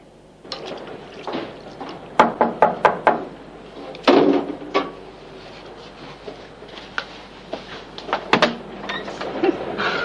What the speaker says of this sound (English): I've been ringing at your front door for about 10 minutes